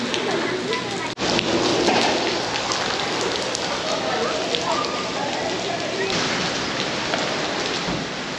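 Steady rain patters densely on surfaces at a fishing spot in Samcheok on a rainy day, a constant close hiss, with people talking over it.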